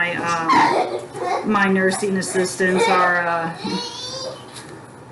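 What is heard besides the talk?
therapy dogs barking and whimpering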